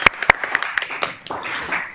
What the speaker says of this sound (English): Yes, please clap for Danielle.